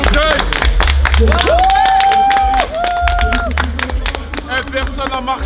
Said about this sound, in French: Venez, on s'applaudit s'il vous plaît